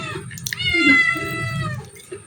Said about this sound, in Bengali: এই যে আমার বিড়ালও খাইতে চলে আসছে